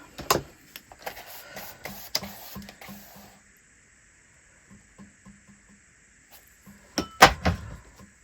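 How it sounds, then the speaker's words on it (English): A light, irregular rattling and ticking near an art journaling workspace, with faint clicks and a mechanical whir, then quiet stretches broken by soft taps and a sharper clatter near the end. "I don't know what is rattling."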